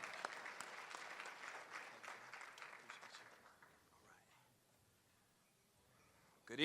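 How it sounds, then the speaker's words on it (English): Audience applause at a memorial scholarship foundation event, a lively round of clapping that fades out after about three seconds into near quiet before a sudden loud noise at the very end. "You keep clapping while he comes."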